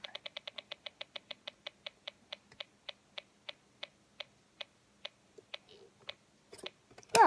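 Snap Circuits SC-750 electronic rain circuit ticking out a steady run of sharp clicks that gradually slow and spread apart, ending in a brief louder burst, with no talking.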